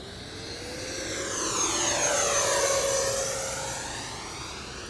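An FMS 64mm Futura Sport Jet RC model, an electric ducted-fan jet, sweeps past overhead in knife-edge flight. Its whine rises and falls with a clear Doppler pitch shift as it approaches, passes loudest at mid-clip, then recedes.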